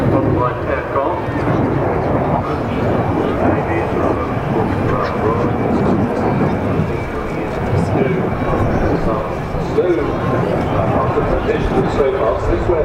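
Spanish Navy AV-8B Harrier jump jet at Farnborough International Airshow 2014, a loud, steady roaring engine rumble filling the whole stretch, with an announcer talking over it.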